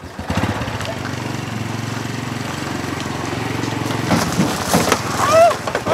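A small motorcycle engine runs nearby with a steady, buzzing drone that rises slightly toward the end, while people talk over it.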